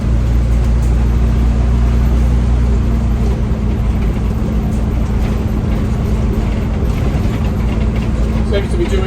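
A bus engine drones at a steady cruising speed of about 60 km/h, a loud, constant low hum with a strong engine tone that runs unbroken from start to finish.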